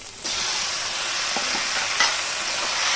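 Boiled taro stolons fry in rohu fish oil in a pan with turmeric, giving a steady close sizzle with a few soft stirring knocks and scrapes, and no talking.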